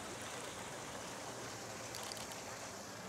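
A water fountain splashes at sunset with a steady, faint hiss of falling water and no distinct events.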